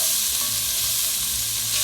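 Celery, onion and carrot fry in a hot pan for osso buco, giving a loud, steady, close sizzle with a constant bright hiss and low crackle, brief and unbroken, no voices.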